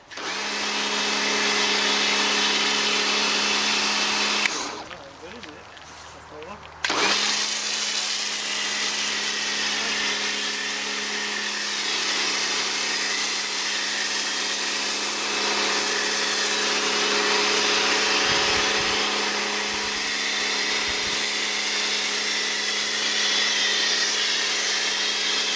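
A Karcher pressure washer sprays through a Pro-Kleen snow foam lance, a loud, steady hiss and motor drone that dips for about two seconds, then continues unbroken, with a few faint knocks.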